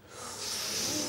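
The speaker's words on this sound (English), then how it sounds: "That was the sound of audible wincing, Germaine." A studio audience in a comedy quiz show winces together, a rising collective hissing intake of breath through teeth that swells and holds for about a second.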